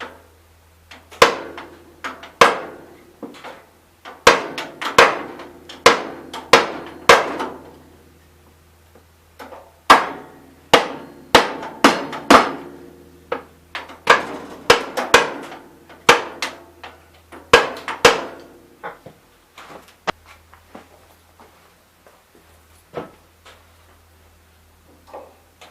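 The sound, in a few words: ball peen hammer striking a painted tire rim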